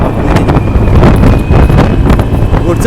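Strong wind on a hilltop buffets the microphone with loud, continuous roaring and rumbling gusts throughout.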